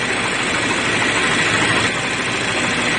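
A 2013 Chevy Malibu engine idling with its ground cable unhooked, a steady broadband hum and whir holding constant throughout, fairly close with no talking.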